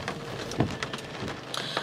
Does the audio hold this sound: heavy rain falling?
yes